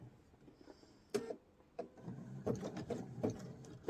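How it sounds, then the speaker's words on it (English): A home sewing machine stitches a zigzag seam, running in short bursts of rapid mechanical clatter with brief pauses, close and moderately loud with no talking. "So we're going to sew ahead till we're almost to the end, and then I'm going to reverse."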